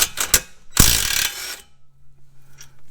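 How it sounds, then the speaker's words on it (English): Ratchet working loose a front strut bolt on a 2011 Hyundai Elantra, a few quick clicks and then a longer harsh burst of ratcheting, close and loud in a quiet garage, followed by a faint hum. "we're just loosening it to the end of the thread of the bolt."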